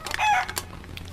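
A chicken rooster gives a brief, fairly close crow, cut short after about a second.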